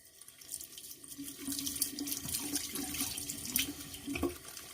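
Water from a kitchen or bathroom tap runs steadily into a small shaving soap tub, splashing and gurgling as the tub is rinsed out, close and fairly loud.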